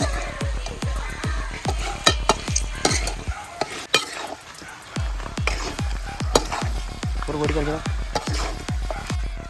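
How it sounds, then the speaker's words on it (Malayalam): Pork leg pieces frying in a pan with black pepper, stirred steadily: repeated loud scraping strokes in a regular rhythm over a constant sizzle, with brief voices in between. "നല്ല രീതിയിൽ ഫ്രൈ ആയിട്ടുണ്ട്"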